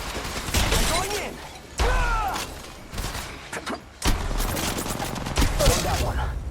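Gunfire in the mobile video game Apex Legends Mobile, loud bursts of rapid shots broken by brief pauses, with sharp impacts and shattering sounds mixed in and some faint game voice lines underneath.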